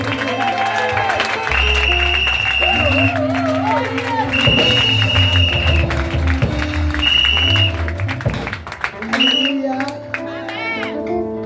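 Congregation applauding and cheering for Pastor Kofi at a national vigil of the Mission Antioche du Plein Evangile church, a steady crowd roar of clapping with whoops under loud sustained music and voices.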